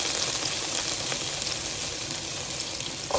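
Beans going into a pot of golden fried spices for a Haitian corn-and-bean dish, giving a loud continuous hiss and sizzle with a watery, gushing texture and no talk.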